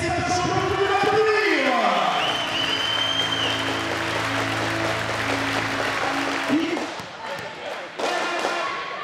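A crowd at a women's volleyball match between Istres and PAVVB applauds steadily, with a loud tonal horn or chant sweeping through mid-clip and voices over the clapping toward the end.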